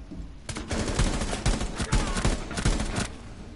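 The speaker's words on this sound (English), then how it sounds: "Jeez, the sound of a grenade." Gameplay in Rainbow Six Siege brings a burst of loud, sharp blasts from a grenade explosion, several rapid cracks and booms packed within a few seconds.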